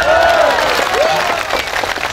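Audience applause at a comedic Bugis-language religious sermon, a dense burst of clapping from a crowd, loud and sustained, with cheering tones over it.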